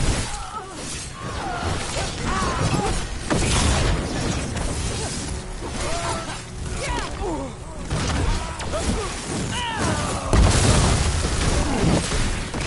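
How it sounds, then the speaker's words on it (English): Mortar explosions in Dragon Age Veilguard boom and crash amid a chaotic battle, with shattering impacts and bursts scattered throughout under shouting voices and combat noise. "They've got mortars!"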